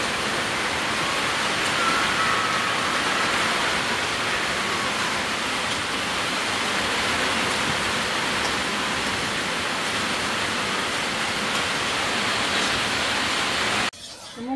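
Heavy rain pours down in a steady, dense hiss that holds unbroken and loud for the whole stretch, cutting off abruptly at the very end.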